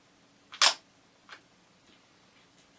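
Camera lens extending with a sharp mechanical whir-click burst, followed by a fainter second click and a small beep at the end, close and otherwise quiet.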